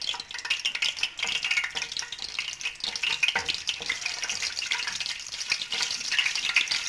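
Cardamom, a piece of cinnamon and curry leaves sizzle and crackle in hot oil for a chicken khara masala tadka, a continuous close hiss with small popping spits and occasional stirring.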